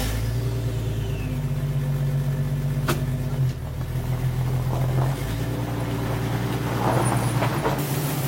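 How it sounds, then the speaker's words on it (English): A barn-find Triumph Spitfire engine cranking on a jump start from a Jeep, a loud, steady mechanical churn that dips briefly midway and then carries on. "battery's too dead, so I'm gonna just jump it straight from my Jeep."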